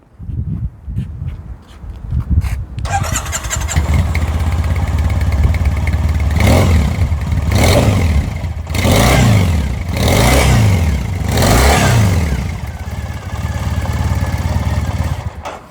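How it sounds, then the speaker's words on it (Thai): A black 2015 Triumph Thruxton 900 air-cooled motorcycle fitted with custom handlebars starts up and idles with a loud, lumpy rumble, then is blipped in several throttle revs that rise and fall before it settles back to idle. "ขอฟังเสียงเครื่องยนต์หน่อยครับ"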